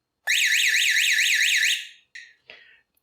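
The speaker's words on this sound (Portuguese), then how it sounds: "eu vou virar essa sirene para baixo para que ela faça menos barulho" A professional alarm siren driven by an Arduino laser-tripwire circuit wails loud and close, its rising-and-falling tone sweeping rapidly for about two seconds before cutting off, followed by two short bursts.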